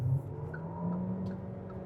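The combustion engine of a Geely Starray, working as a generator under hard acceleration, holds a steady, moderately loud drone at high revs inside the car.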